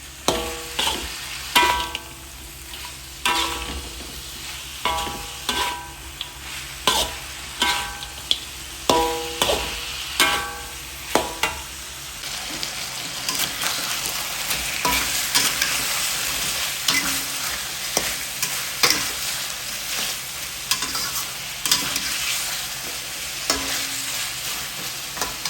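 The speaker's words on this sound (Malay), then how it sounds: "Ini kita goreng kecap, masak kering." Squid and prawns stir-frying in soy sauce in a hot pan, a steady close sizzle broken by repeated sharp scrapes and taps of a spatula stirring, more regular in the first half and then a denser, continuous sizzle.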